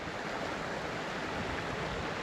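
A mountain creek rushes over rocks at its deepest point, giving a steady, dense, broadband roar of flowing water that is constant and close, with no voices.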